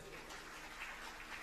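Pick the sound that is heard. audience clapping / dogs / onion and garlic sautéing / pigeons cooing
audience clapping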